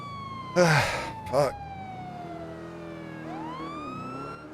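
Police car siren in the GTA V NoPixel game, a steady wail gliding down then rising again, loud and continuous, with a short burst of speech from a player near the start.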